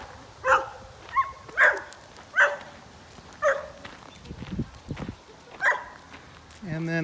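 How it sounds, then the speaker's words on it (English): A dog at a lakeside campground on Lake Superior barks about six times in short, sharp, spaced bursts at moderate distance, with a person talking between the barks. "There's another dog there."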